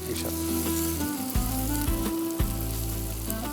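Kashmiri fish kofta pieces are added to a hot pan and sizzle loudly and steadily up close, with occasional clinks and stirring knocks over the frying.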